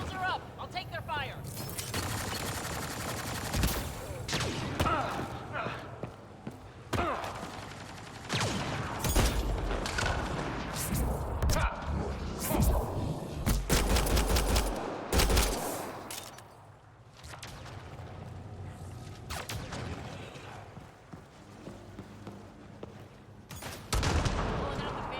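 Gunfire rattles through a firefight in the video game Mass Effect: Andromeda, with bursts of automatic shots and impacts coming in waves as someone talks over the combat.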